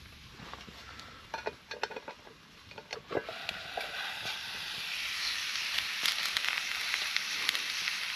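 Steak cooking outdoors in a cast iron bushcraft cooker over a fire, a steady soft sizzle and hiss with occasional light metallic clinks and scrapes, fairly quiet and close.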